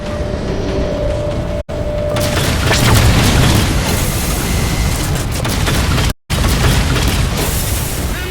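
An explosion strikes the Mammoth, a huge armored vehicle in Halo 4, a loud, sustained booming blast with rumbling debris that fills the scene for several seconds, broken by two brief cuts to silence.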